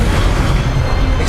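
A fire spell cast in a wizarding video game, a dense, roaring burst that fills the whole short moment at steady loudness, with heavy low rumble.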